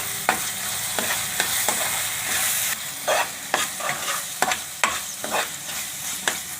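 A spoon scrapes and knocks against a pan in a steady rhythm over a continuous sizzle of frying Manchurian with green and red sauces.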